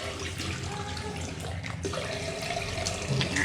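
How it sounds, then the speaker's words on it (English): Tap water runs steadily into a bathroom sink while a child rinses her mouth after losing a tooth, a continuous close splashing stream with small shifts in flow and faint voices underneath. "Like you get a little salt water and rinse your mouth"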